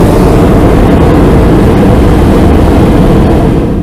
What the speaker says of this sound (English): While Peppa, George, Mammy and Daddy Pig flew on an aeroplane